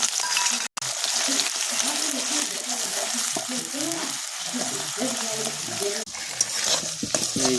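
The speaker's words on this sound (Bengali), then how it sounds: "তেল গরম হয়ে গেছে, তেজপাতা দিয়ে দেবো, পেঁয়াজটা দিয়ে দেবো।" Onions and bay leaves hit hot oil with a little sugar in a wok, giving a continuous sizzle and frying crackle with some stirring, while a voice talks faintly in the background.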